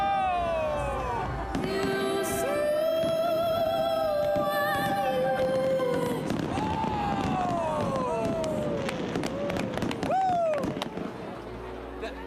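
A Disneyland fireworks show: continuous loud bangs and crackles layered with whistling rising streaks and a cheering, excited crowd, dense and sustained throughout.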